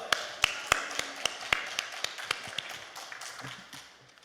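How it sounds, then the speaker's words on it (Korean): A congregation at a prayer retreat center claps as the pastor comes forward, a run of sharp, distinct claps that thins out and softens toward the end. "목사님 나오실 때 할렐루야로 하나님 앞에 영광의 박수 올려드립니다."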